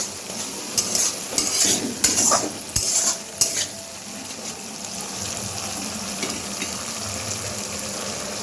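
Ginger and green chili paste sautéing with tomato in a pan: close scraping stirs and clinks in the first few seconds over a steady sizzle that carries on alone.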